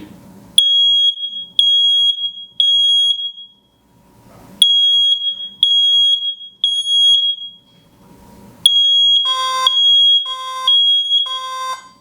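Piercing beeps from a smoke alarm for the hearing impaired in repeated groups of three, loud and close; near the end a second, harsher alarm tone joins and overlaps them.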